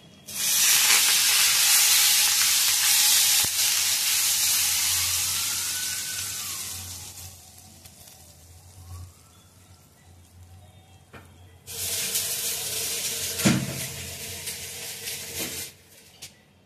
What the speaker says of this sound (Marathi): याच्यावरून आपण फोडणी देऊ.